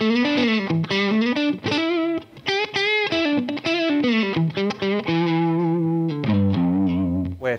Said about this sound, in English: It's quite fun playing such a metal guitar